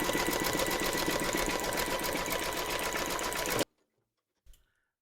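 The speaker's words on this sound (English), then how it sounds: "Pop your hoop into your machine and stitch round number 8, and that's going to secure the fabric in place." An embroidery machine stitches a securing pass to tack fabric in a hoop for an appliqué teddy, a loud rapid mechanical chatter running steadily before cutting off abruptly, followed by a brief soft click.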